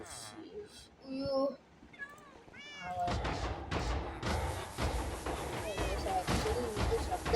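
A Minecraft cat gives several short, clear meows early on, then keeps meowing under louder game noise and a person talking over the gameplay.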